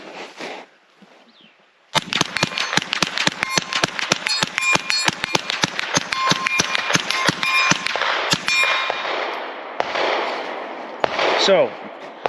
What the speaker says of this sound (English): So we're gonna empty the mag real quick here